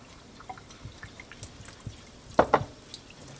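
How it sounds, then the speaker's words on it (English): Green beans and liquid go into glass canning jars, heard as faint scattered drips and small pours near by, with a brief louder splash and clink in the middle, no voices. "Now we're going to fill all the jars up, remembering to leave about a 1/2 inch head space."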